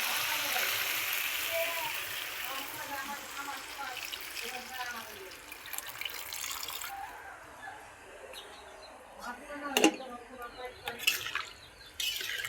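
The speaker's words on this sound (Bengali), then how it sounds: "এই আমরা এখন এখানে ঝোল দিয়ে দেবো" Broth poured into a pan of hilsa fish curry with beans and potatoes makes a steady liquid stream for several seconds, followed by bubbling and a few clinks of utensils.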